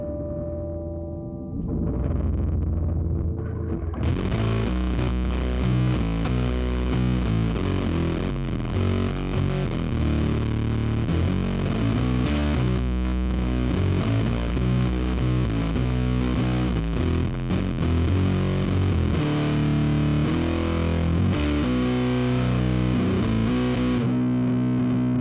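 Bass synth line, as on Superstition, run through a Boss OC-5 octave pedal with distortion, playing a loud, continuous riffy pattern with dense fuzzy harmonics, steady throughout after a short quieter start.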